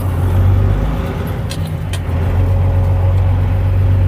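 A truck engine runs steadily with a loud, low rumble, close by and continuous throughout as the truck turns around in a busy spot in Sweetwater, Tennessee.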